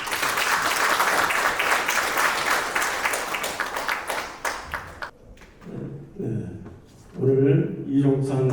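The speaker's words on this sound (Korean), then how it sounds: "큰 박수로 맞아주시기 바랍니다." An audience at a commemorative ceremony for the Battle of Bongodong gives a burst of applause that fades after about five seconds, followed by a speaking voice.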